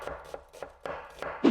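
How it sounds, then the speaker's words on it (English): A knife chopping onions, a series of firm knocks on a cutting board at an uneven quick rhythm, close and distinct, with no talking. "I finally learned how to chop from this to this."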